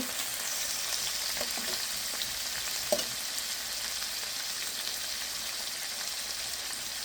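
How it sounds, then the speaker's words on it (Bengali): Salmon fish pieces fry gently in a pan, two at a time, with a steady, even, close hiss of sizzling oil and a couple of faint taps, no talk. "এভাবে আস্তে আস্তে আমি ফ্রাই করে নেব আস্তে আস্তে ভেজে নেব"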